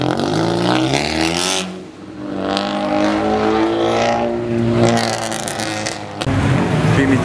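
A BMW 3 Series car engine runs loud and continuous, its pitch rising and falling through revs in the foreground, with a brief dip in level midway.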